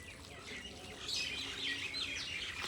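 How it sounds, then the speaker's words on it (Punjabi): Small sparrows chirp and sing outdoors at a home garden, a quick flurry of bright overlapping tweets and short calls at moderate distance, continuing throughout over a soft background hiss. "ਚਿੜੀਆਂ ਗੀਤ ਗਾ ਰਹੀਆਂ ਵਿਚਾਰੀਆਂ"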